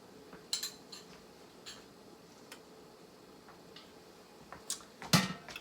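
A metal spoon clinks lightly against a cooking pan after butter is added, with a few sparse, faint taps and one sharper, louder clink near the end in an otherwise quiet kitchen.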